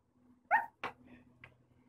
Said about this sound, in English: Oh my gosh, is there a dog behind me?